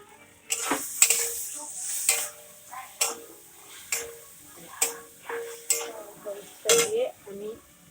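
Potatoes fry in a pan with turmeric as a spatula scrapes and stirs in a steady rhythm of about one stroke per second, with sizzling underneath and a faint voice at times.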